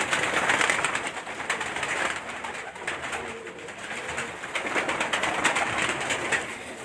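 Pigeons kept by a long-time pigeon fancier coo repeatedly amid constant hissy outdoor noise, soft and close, with no voices.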